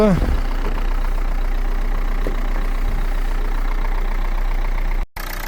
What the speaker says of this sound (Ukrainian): Давайте покажемо, як працює в неї мотор